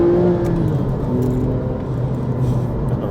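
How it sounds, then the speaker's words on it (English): A Porsche 911 997 Carrera 2S engine pulls hard in second gear, a loud, steady, close drone with a slight rise in pitch at first and no voices. "Right, the second gear, here we go. So let's listen to this just wind up."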